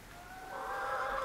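Chickens on an aquaponics farm in Kerala give a steady, drawn-out honking call that swells in loudness over a low background hum, with no talking.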